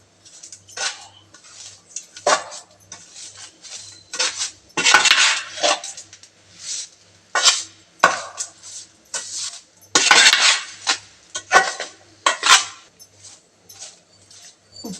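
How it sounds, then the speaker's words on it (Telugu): Salt, chili powder and turmeric are stirred into onions in a pan with a metal spoon, making repeated scraping clinks and clatters in an uneven rhythm, close and fairly loud, with no talking. "ఈ ఉప్పు, కారం, పసుపు ఉల్లిపాయలకు బాగా పట్టేలా కలుపుకోవాలండి"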